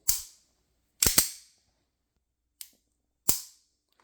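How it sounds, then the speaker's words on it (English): A Stealth Arms Platypus pistol with about 7,000 rounds through it and some modifications has its trigger dry-fired, giving four sharp, close mechanical snaps in a quiet room. Two come in quick succession, then two more spaced apart. "See that trigger pull?"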